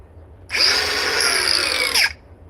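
A cordless DeWalt power drill spins up sharply, whines steadily at close range for about a second and a half, then winds down to a stop, with no talk over it.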